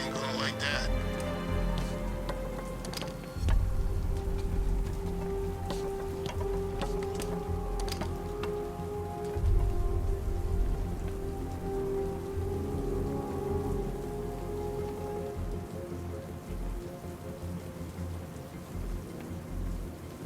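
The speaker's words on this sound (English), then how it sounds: "What's with all the rain?" Rain falls steadily in the game Batman: Arkham Knight, a constant hiss of drops spattering on surfaces with a couple of low rumbling swells, while someone talks over it.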